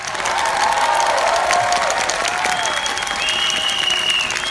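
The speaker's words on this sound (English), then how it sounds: "I think we should give a round of applause to the founders and Scott." Loud, continuous applause from a large conference crowd in Kuala Lumpur, a thick sustained roar of clapping with cheering and whistles mixed in, holding steady throughout.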